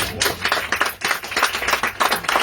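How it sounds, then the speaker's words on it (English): Audience applause at a volunteer organization's gathering: dense, steady clapping from many hands, close and loud, with sharp overlapping claps throughout and no talking. "So let's give them a big, huge round of applause."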